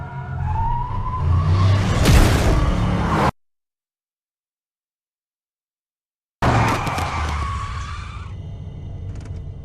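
A car skids along a coastal road in the video game Alan Wake: a loud, sustained screeching rush that cuts to sudden silence for about three seconds, then returns and fades with a tonal whine.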